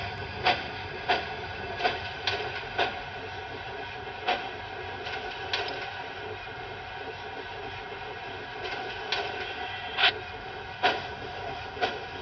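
A BLI GS-4 model steam locomotive runs at a moderate speed step, giving a steady mechanical hum with regular sharp chuffs spaced about a second apart, close and fairly quiet.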